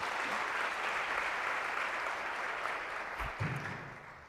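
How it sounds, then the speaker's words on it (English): An audience at a tech conference morning session applauding for a speaker, a dense sustained round of clapping that carries on loudly and then tapers off near the end, with a faint murmur beneath. "Can we just give her one more big round of applause, please?"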